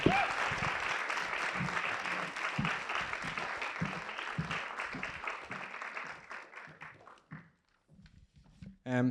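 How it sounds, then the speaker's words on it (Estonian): Applause from an audience at a literary evening for a poetry prize nominee, full and steady at first, then thinning to scattered claps and fading out, with a voice starting up at the end. "Aplaus"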